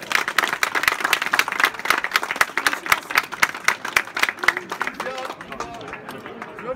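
An audience applauding at a youth cycling podium ceremony in Beloeil, with dense, sustained clapping that tapers off near the end while a voice speaks over it.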